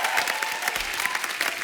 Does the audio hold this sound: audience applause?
yes